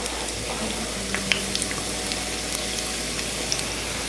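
Onion and garlic sizzling in a tablespoon of olive oil, an even, dense hiss with faint crackles and pops throughout, close and steady with no talking.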